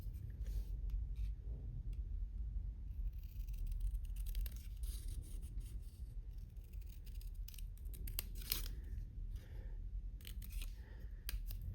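Scissors trim a stamped paper piece for a birthday card, a close run of small crisp snips and paper rustles repeating irregularly over several seconds, with no talking.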